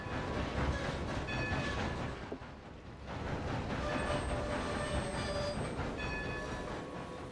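Train in the Red Dead Redemption 2 video game: a steady rumbling rail clatter with faint high whines and squeals, continuous and moderately close, with a brief dip around the third second.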